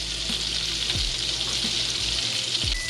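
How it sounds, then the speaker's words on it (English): Vegan Salisbury steak patties sear in a pan with a steady, fairly loud sizzle and hiss, plus a few brief low thumps, no speech. "we're just going to let that sear for a little while"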